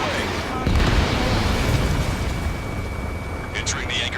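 A missile blast in the combat flight game Ace Combat 7 sounds as a loud, rumbling roar that swells and holds with heavy low boom, with a brief radio-style voice near the end.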